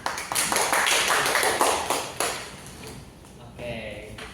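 Students in a twelfth-grade classroom clap for a group of three coming to the front, a burst of close, sharp handclaps lasting a couple of seconds amid voices, then tapering off into quieter room noise.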